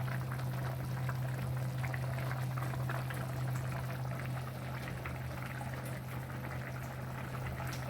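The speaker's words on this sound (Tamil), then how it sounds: "இப்போ தண்ணி நல்லா கொதிச்சுடுத்து நம்ம சேமியாவை இது கூட ஆட் பண்ணி கொடுத்துடலாம்." A pot of water at a rolling boil on the stove as vermicelli is added for vermicelli pulav, giving a steady, close bubbling hiss that runs evenly throughout with no talking.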